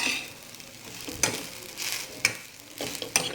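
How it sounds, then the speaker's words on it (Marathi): Curry leaves crackle and sizzle in hot oil over a low flame, a soft continuous fry punctuated by several sharp pops and spatula scrapes, close and without talk. "हे बघा मी कडीपत्ता तळला"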